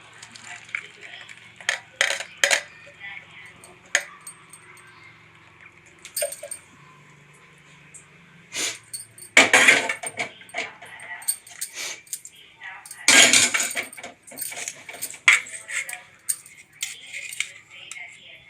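Herbal tea made from avarike leaves and flowers being strained: scattered metallic clinks and taps of a strainer and vessels come in sparse bursts, with someone talking between them.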